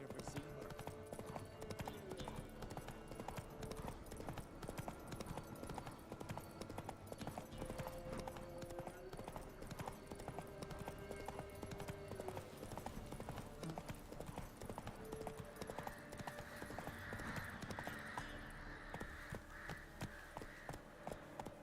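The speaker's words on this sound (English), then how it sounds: "Whoa there, Roach." Steady, rhythmic hooves clip-clop from a horse being ridden in The Witcher video game, continuing throughout at a moderate level beneath game ambience and occasional speech.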